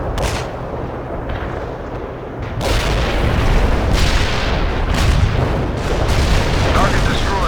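Artillery fire in the real-time strategy game World in Conflict, a continuous rumble of booming shell blasts that swells louder partway through, with voices talking over the barrage.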